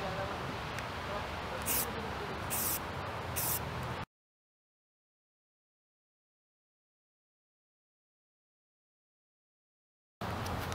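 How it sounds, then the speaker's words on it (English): Bursts of aerosol spray paint hiss onto a scooter fork over steady broadband noise, followed by a long stretch of silence and a return of the background hiss. "We're spray painting fork now."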